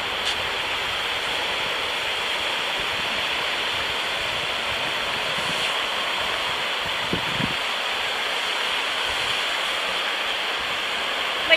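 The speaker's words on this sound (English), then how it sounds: "My goodness, the water." Water rushing in a constant, dense hiss like a stream or small waterfall, steady and fairly loud throughout with no break.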